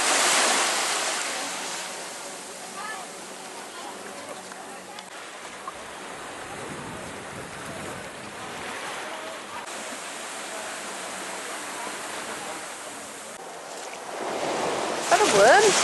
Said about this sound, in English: Sometimes the waves are bigger than others.